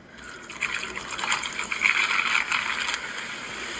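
A whole bottle of zero sugar soft drink poured over ice in a cup, a steady close fizzing gush that builds after a brief pause and runs continuously with bright crackling bubbles.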